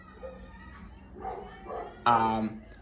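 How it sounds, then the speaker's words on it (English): A dog gives a short, close bark and whimper that rises into one louder yelp near the end, heard over a man's speech. "just listening to my dog"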